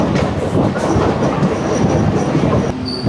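Train running through Bandra railway station in Mumbai, a loud, continuous rumble and clatter of wheels on rails with faint metallic squeals, close by and with no talking.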